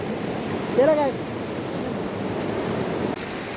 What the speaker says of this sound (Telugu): ఇక్కడ చిన్న వాగు ఉంది ఈ వాగును దాటుకుంటూ మనం అక్కడికైతే చేరుకోవాలి